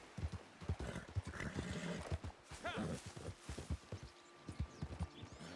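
A horse's hooves clip-clop in the video game Red Dead Redemption 2, a quick rhythmic trot of close hoof strikes with a whinny partway through and someone talking over it.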